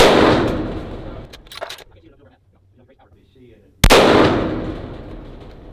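Two sharp, loud 6.5 Creedmoor rifle shots firing Hornady 140-grain factory ammunition, one at the start and another near the end, each with a long echoing decay across an open range, separated by a quiet gap with faint background sounds.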